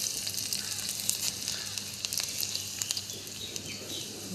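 Nigella seeds and garlic cloves sizzle steadily in hot oil, with a bright, continuous crackle and occasional sharp pops up close.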